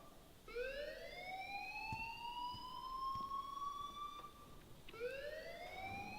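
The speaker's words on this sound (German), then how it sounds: "Leave Miss Caulfield alone, and please turn off that alarm since that's your job" A school alarm in the video game Life Is Strange wails twice, each cycle a rising siren-like tone that holds steady before cutting off and restarting, moderately loud over a faint background.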